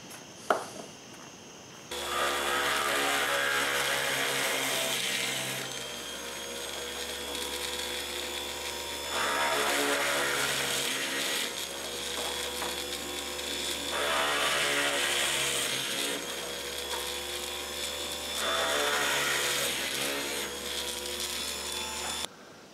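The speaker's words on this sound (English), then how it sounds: "I'll drill out the form." Drill bit working through a coil form for a 1956-style amplified crystal radio, a steady whining grind in long passes broken by short pauses, close and fairly loud, with no talking.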